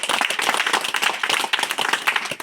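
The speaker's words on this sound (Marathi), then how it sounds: "ओशोसाठी टाळ्या." A crowd claps for Osho during a Marathi philosophy talk, a dense, even patter of many hands at moderate level, continuous without pause.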